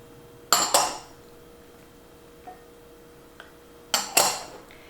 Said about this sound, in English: So I'm just going to just start piling these things on my salad, and we're going to toss it.